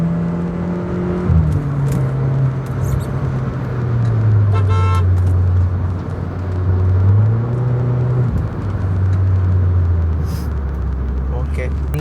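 A VW Polo GT TSI with a Stage 1 tune and a Borla exhaust drones from inside the cabin as it accelerates, the engine pitch rising and dropping through gear changes under people talking.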